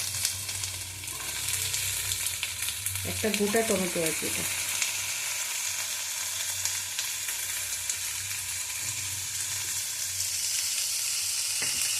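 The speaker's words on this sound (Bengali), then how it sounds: "আর একটু নেড়ে নিয়ে ভালো করে ভাজবো" Onions and tomato fry with a constant close sizzle and crackle, a brief clatter partway through, and a person speaking briefly over it.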